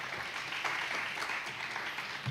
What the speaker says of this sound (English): could we get one more round of applause for our panelists?